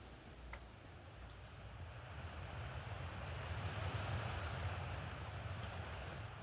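A waterfall in the video game Outer Wilds gives a broad, steady rushing roar that swells slightly louder midway and holds, with a faint high ringing tone early on and no talk.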